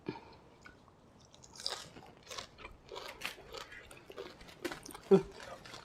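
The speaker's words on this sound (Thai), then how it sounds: "มันกรอบ มันกรุบกรุบกรอบ กรอบกรุบกรุบ" Close, crisp crunching of raw bamboo shoots and fresh leaves being bitten and chewed, in irregular snaps, with some speech in between.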